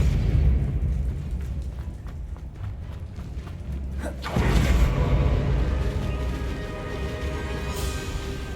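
Spell blasts from the video game Hogwarts Legacy: a steady rumbling, booming game mix with a sharp burst around the middle that lifts into a brighter, crackling wash of magical effects.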